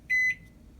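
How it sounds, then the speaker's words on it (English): A Toshiba ML-EM34P(SS) countertop microwave gives a single short electronic beep when its clock button is pressed, clear and close against a quiet background. "Press the clock button,"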